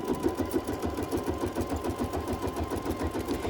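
An embroidery machine stitches a wool pumpkin garland in black thread with a fast, steady mechanical whir and a rapid repeating needle pulse, close and moderately quiet.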